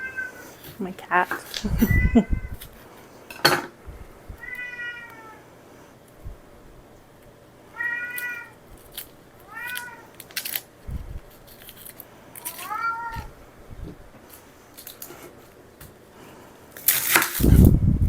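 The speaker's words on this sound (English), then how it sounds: "My cat." A pet cat meows repeatedly in a home kitchen while soup stock is being prepared, with short, bright calls spread across the stretch, a harsher caterwaul-like cry near the end, and light kitchen clatter in between.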